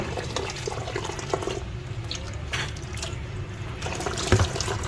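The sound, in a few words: washing sweet potato leaves in running water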